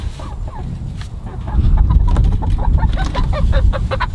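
Several chickens clucking close by in short, busy bursts as they are placed in a backyard coop, with low rumbling handling noise underneath.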